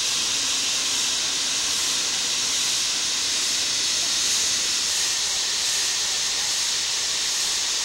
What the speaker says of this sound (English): Our train is now preparing to go up the second switchback